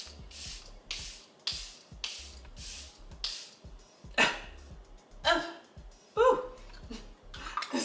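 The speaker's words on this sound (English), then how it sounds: "now I'm just going to apply some setting spray" Charlotte Tilbury Airbrush Flawless setting spray mists from its pump bottle in a series of about eight short, soft hissing bursts, evenly spaced at first, with clicks and rustles between the later sprays.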